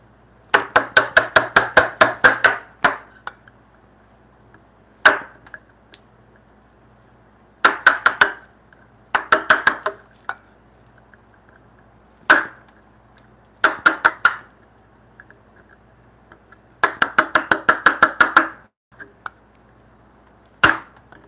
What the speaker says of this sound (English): Let's use the mortise chisel here.